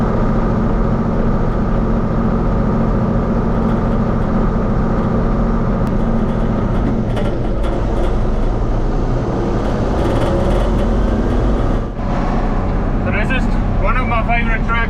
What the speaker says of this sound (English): Favorite tractors, it's a 4640.